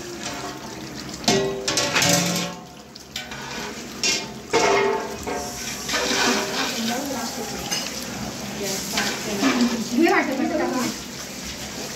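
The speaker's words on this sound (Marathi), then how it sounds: "झाकण काढा, पाणी टाका." Water poured into a pot of chicken curry cooking for a large party, a splashing pour and bubbling sizzle with stirring, close by, while someone talks over it.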